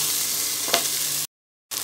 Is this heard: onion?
yes